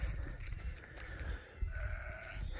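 Sheep bleats played outdoors at night through a Bluetooth speaker set out on a hillside to lure predators, coming as drawn-out, wavering calls over a low rumble of background noise.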